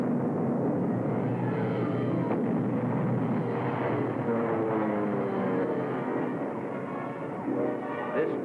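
Engines of American wartime bombers, a continuous loud droning roar of aircraft overhead in a 1949 documentary film about the Army Air Forces in 1942, steady throughout with faint rhythmic beating.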